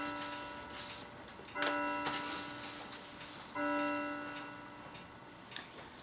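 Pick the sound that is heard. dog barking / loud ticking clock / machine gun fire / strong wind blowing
loud ticking clock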